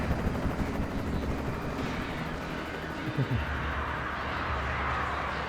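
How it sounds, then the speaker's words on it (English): In the video game Alan Wake, a helicopter's thick rotor rumble fills the scene alongside bursts resembling gunfire, with a brief descending tone partway through. "Yeah, I doubt I'd be able to take down a helicopter."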